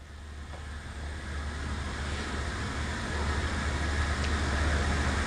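An 870-S SRD machine runs at low RPM with a smooth, steady broadband whir and low hum that swells slightly louder over several seconds, with no voices.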